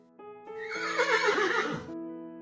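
A horse gives a single loud, quivering neigh that rises and then trails off, close and clear over a soft background of sustained music.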